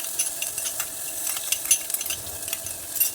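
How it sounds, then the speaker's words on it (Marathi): Ground spices roasting in hot oil in a clay pot for a village-style mutton curry, a soft steady sizzle with faint scraping stirs, close and continuous with no voices. "तर आता तेल तापलेलं आहे त्याच्यात मी मसाले सर्व घालून घेते"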